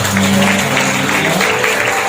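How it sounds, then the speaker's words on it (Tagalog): A Catholic parish congregation in San Pablo, Hagonoy claps loudly in church, a dense continuous burst of applause with a low hum beneath. "Malakas sa palakpak para sa ating"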